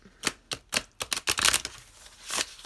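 Tarot and oracle cards shuffled by hand in a string of quick riffling bursts and soft slaps, close and fairly loud, with no voices.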